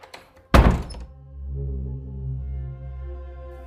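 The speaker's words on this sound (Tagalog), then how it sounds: "may narinig akong kakaibang tunog at kalabog sa pinto ko" A single heavy thud against a door in the early morning, followed by a low, droning tone that swells and hangs in the background.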